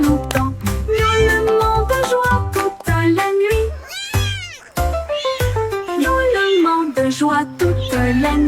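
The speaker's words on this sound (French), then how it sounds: "Miaulement de joie toute la nuit." Repeated cat meows, including one long drawn-out wail, sound loud and close within a bouncy French children's song with music playing throughout.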